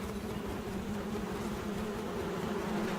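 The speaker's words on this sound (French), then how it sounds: "cette femelle fait vrombir ses ailes pour chasser les abeilles qui s'entêtent à défendre leur production" A female moth inside a beehive buzzes her wings to drive off defending bees, giving a dense, continuous droning hum that stays loud and steady throughout with no pauses.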